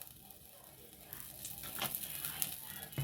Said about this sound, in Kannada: ಮುಲ್ಪ ಬಣಲೆಗ್ ಒಂಜಿ 2 ಚಮಚದಾತ ಎಣ್ಣೆ ಪಾಡೊಂದುಲ್ಲೇರು